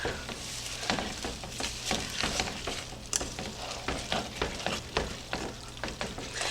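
Finely ground Doritos chips being mixed with a big spoon into a ground beef casserole: a rhythmic series of close scraping, thudding stirring strokes over a soft background hiss.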